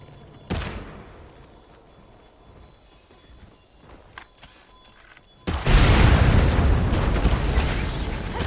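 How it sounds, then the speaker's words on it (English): A planted bomb in a video game detonates with a heavy explosive roar that hits suddenly and keeps rumbling loudly to the end, following a single sharp bang near the start and some scattered clicks and small noises. "I'm going to plant a bomb while we can. Explosive set and ready for detonation."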